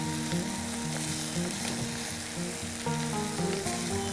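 Fenugreek and potato sizzle loudly in a pan while being stirred, a dense continuous frying hiss with soft scraping movement throughout, close and with no speech.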